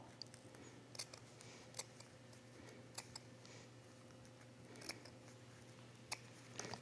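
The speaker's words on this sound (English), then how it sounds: "And just cut a nice little circle." Scissors snip a small circle through a single layer of fabric, giving quiet, irregular clicks and crisp cuts spread over several seconds against a soft background hum.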